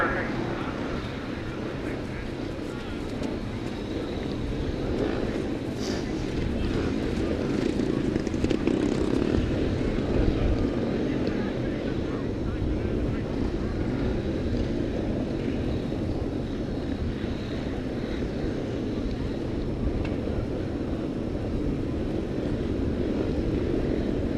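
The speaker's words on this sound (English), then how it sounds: "As we go racing here with the 500 solos, they're combined in race 12 and race 13." 500cc solo motorcycles race at a grasstrack meeting, their engines blending into a constant distant roar with wind buffeting the microphone, while a public-address commentator talks throughout.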